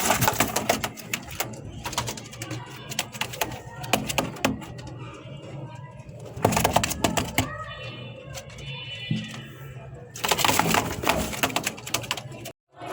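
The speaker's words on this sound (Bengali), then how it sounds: "জোড়া রেসার কবুতর নিয়ে হাজির হয়েছি" Pigeons coo in a loft of racing birds, soft throaty calls repeating under bursts of wing flapping and scuffling, close and fairly loud, with no talk.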